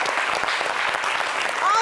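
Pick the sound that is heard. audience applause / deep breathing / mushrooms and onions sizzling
audience applause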